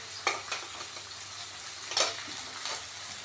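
A spiced mixture of peas, tomato, red chili powder, turmeric and salt sautés in a pan with a soft continuous sizzle and a few scraping stirs, near and fairly quiet with no speech.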